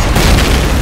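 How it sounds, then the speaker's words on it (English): A rocket explosion in Payday 2, one loud, dense, low boom that fills the whole moment with no break. "I'm gonna send in a rocket."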